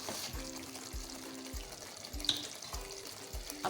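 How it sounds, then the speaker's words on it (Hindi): Meat frying in a pan over high flame sizzles and crackles steadily, with soft rhythmic scraping as the meat is stirred. "देखिए गोश्त अच्छे से भुन चुका है"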